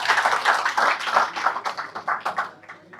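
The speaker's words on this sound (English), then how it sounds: "Can we have a round of applause for everyone that shared?" Audience applause at an entrepreneurship session, a small group clapping with distinct uneven claps that thin out and fade toward the end, fairly close.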